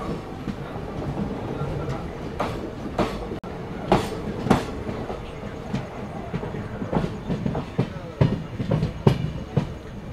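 Tuticorin Express train rolling on rails toward Bangarpet station, wheels clicking over rail joints in a steady, loud rumble with repeated sharp clacks and a brief squeal, carriage noise throughout.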